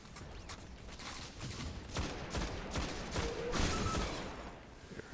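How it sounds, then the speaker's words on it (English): Combat in the video game Destiny during a strike, with a grenade blast swelling out of rapid weapon fire and mechanical clatter, loud and close, rising and fading over several seconds with no talk. "wipe them out with a grenade"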